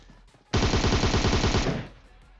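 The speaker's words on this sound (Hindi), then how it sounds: "गोलियां चिपका दी उस डीपी वाले ने" A burst of rapid automatic gunfire in the mobile battle royale game PUBG Mobile, roughly a second of dense, evenly spaced shots, loud and close, then fading.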